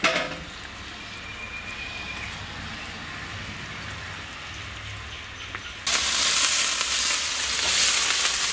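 Oil sizzling on a hot pan for Kerala-style chicken mappas, a steady close frying hiss that swells to a louder, brighter sizzle partway through, with no talking.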